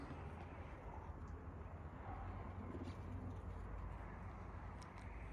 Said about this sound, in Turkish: yabancı kaçak kuşlar gelip kendiliğinden konabiliyorlar